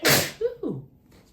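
A single sharp human sneeze bursts out close and loud, followed by a brief vocal trailing sound.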